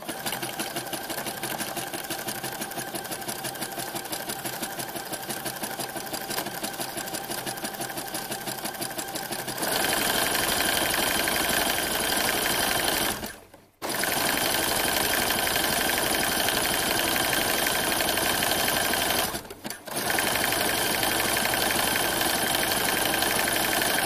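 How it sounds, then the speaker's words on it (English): A home sewing machine runs steadily, top stitching a knit seam on a sports bra with a triple step zigzag. The motor hums loud and close, briefly pausing twice near the end, with no talking. "Here's my triple step zigzag. And I'm just going to go along the other seam."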